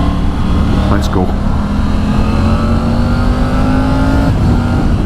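Triumph Tiger 900 GT Pro motorcycle engine pulling hard under acceleration on a road ride, a loud, steady engine roar with rising pitch sweeps, heard close up with heavy wind rush throughout.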